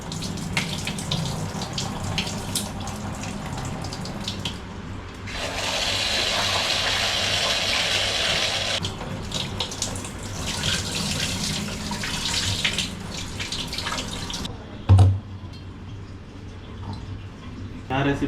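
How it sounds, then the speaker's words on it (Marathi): Half a kilo of rice being rinsed in a bowl under running tap water, a steady splashing wash with a brief louder slosh near the end, as a voice talks over it, while preparing Muradabadi chicken pulao. "बघा इथे आपण चांगले हे तांदूळ आहेत ना जरा धुवून घेऊया"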